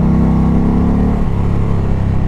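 2020 Indian Challenger motorcycle with a Power Plus 108 engine accelerating, a loud, steady engine roar heard up close that rises in pitch and holds strong throughout.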